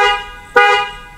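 A Honda Brio's car horn blares loud and close in one sustained honk, briefly dipping and then sounding again with a sharp restart, nighttime setting, no talking.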